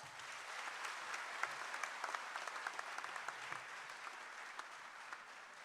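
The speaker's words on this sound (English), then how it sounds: "a huge round of applause for all of us" An auditorium audience applauds at a university event, a steady wash of many hands clapping at a fairly distant, even level with no pauses.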